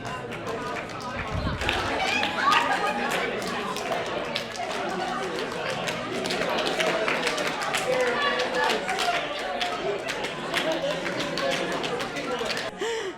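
A room full of workshop attendees paired up, some clapping steadily while others chatter and listen, producing a dense, continuous wash of overlapping hand claps and voices throughout.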